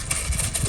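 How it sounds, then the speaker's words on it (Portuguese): Horse hooves clip-clop in a quick, steady rhythm as the animal arrives, fairly loud and close, over a continuous low rumble. "O cavalo tá chegando."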